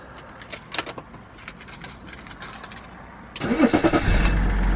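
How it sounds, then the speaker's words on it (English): A BMW E39 after a camshaft sensor replacement cranks with a rapid, rhythmic starter churn, then the engine catches and settles into a loud, steady idle close by; keys faintly jingle beforehand. "Now let me go and let me see if the car starts now."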